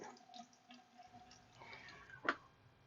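Water trickling and dripping out of a drained residential hot water heater, faint irregular drips and small splashes close by, with one sharper drip near the end, no talking.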